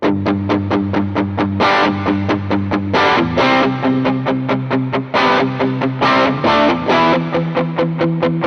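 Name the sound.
electric guitar through original Ibanez TS808 Tube Screamer pedal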